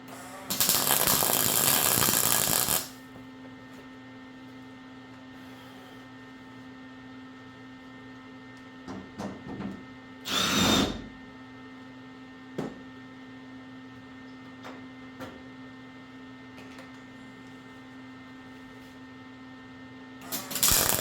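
A power drill backs screws out of a rusty car body panel during rust repair: one long loud whine at the start, a shorter burst midway and a brief one at the end, with faint clatter and hum between.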